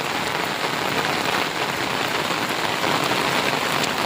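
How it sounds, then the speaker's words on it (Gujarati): Heavy rain pours down in a village during an evening thunderstorm, a dense, even hiss of water striking roofs and ground, loud and steady throughout, with no talking. "વરસાદ પડે તો આમ જો તો"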